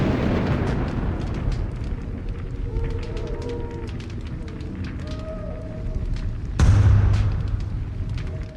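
Booming explosions and rumbling impacts from a siege at a city gate in an Age of Mythology cutscene, with a heavy, continuous roar, a sudden louder blast near the end, and faint voices underneath.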